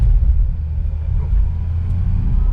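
Audi RS e-tron GT electric car accelerating hard on Sepang Circuit, heard from inside the cabin as a loud, steady low rumble of road and drivetrain noise with no engine note.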